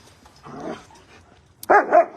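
Puppies, a playful wrestling pair, give a soft whimper and then two sharp, close, loud barks in quick succession indoors.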